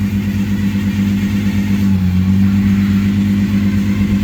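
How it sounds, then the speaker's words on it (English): A car with a swapped-in Ecotec engine runs steadily while its power steering pump adds a continuous low whine and hum, loud and close, with no talking. "That noise there, I'm going to assume is the power steering pump."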